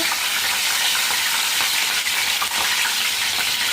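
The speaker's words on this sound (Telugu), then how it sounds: "పచ్చిమిరపకాయలు ఫ్రై చేసుకోవాలి" Green chillies fry in hot oil in a pan, giving a loud, dense, continuous sizzle and crackle that lasts throughout, with no talking.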